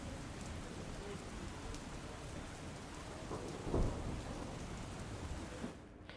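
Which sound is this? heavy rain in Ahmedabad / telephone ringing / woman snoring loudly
heavy rain in Ahmedabad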